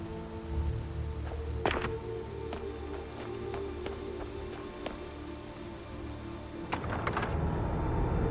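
Rain patters steadily in the Skyrim VR video game over a low ambient drone, with a few sharp knocks or creaks punctuating it, including a louder thump near the start and another toward the end.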